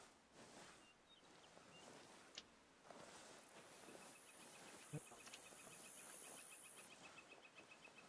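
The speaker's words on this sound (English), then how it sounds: "listening to the cicadas, crickets, whichever ones I'm listening to" Steady chirping of cicadas and crickets fills a wooded hunting area in the video game theHunter: Call of the Wild, a continuous faint insect drone with a high whine and a few brief rustles, with no talking.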